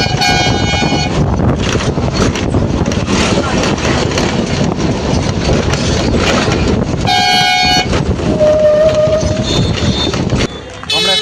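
At Canning station in West Bengal, a train rumbles loudly and steadily throughout, with horn toots sounding near the start and again partway through, and voices mixed into the noise.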